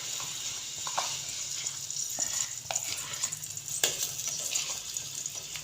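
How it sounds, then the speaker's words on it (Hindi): Desi ghee melts and sizzles in a pan for sweet zarda rice, producing a steady close crackle and hiss with a few sharper pops and light scraping, moderately loud and without any voice. "घी को हम मेल्ट कर लेंगे।"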